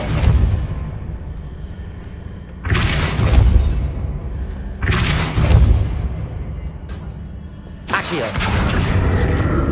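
Depulso repelling spell cast in the Hogwarts Legacy video game, heard as a few heavy booming blasts with broad rumbling bursts spaced a couple of seconds apart over a continuous low background.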